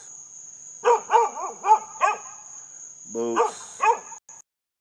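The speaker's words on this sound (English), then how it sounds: "I don't know why they brought the dog right here." A dog barks in a series of sharp, close yips, about eight in all, followed by a longer whining bark, with a constant high insect-like whine in the background and a person calling out briefly.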